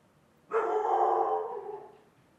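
A single drawn-out dog bark or howl-like yelp, loud and close, lasting about a second and a half before trailing off.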